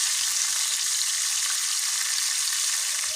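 Food frying in hot oil in a home kitchen, a dense, even hiss and crackle that stays constant and fairly loud throughout with no talking over it.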